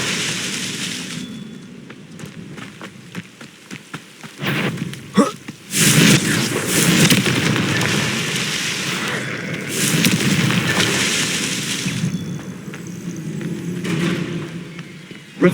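Confringo fire spell in Hogwarts Legacy, bursting into loud fiery explosions several times, each blast followed by a roaring rumble in the middle of combat.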